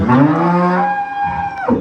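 A dairy cow on a farm lets out one long, loud, close moo that holds steady and then tails off, with no other voices.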